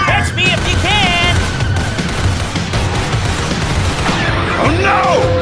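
Gunfire sound effects in the final battle of Atlantis: The Lost Empire, with loud, dense bursts and booms that go on throughout, mixed with shouted voices and tonal whistling effects.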